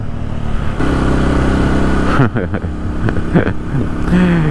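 An old Honda motorcycle being ridden gives a loud, close, steady engine drone that dips and shifts partway through before settling again.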